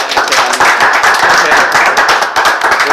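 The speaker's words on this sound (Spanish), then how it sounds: "un aplauso por favor" Audience applause after a program, dense, continuous clapping from a small crowd, loud and close, steady for the whole stretch without speech.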